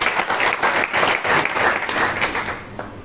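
Devotees at a satsang gathering at a Pandharpur ashram applaud, with dense, steady clapping from a crowd that carries on for the whole stretch before thinning slightly at the end.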